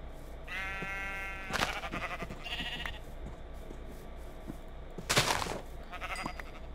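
Sheep bleating in the Minecraft video game, several distinct wavering bleats spaced a few seconds apart, clear and close, with quieter game sounds between them.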